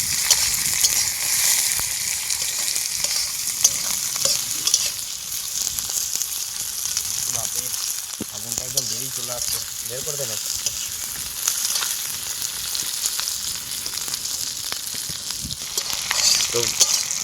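Chicken with curd fries in a pan as it is stirred, a steady bright sizzle running throughout with soft scraping stir strokes and faint voices in the background.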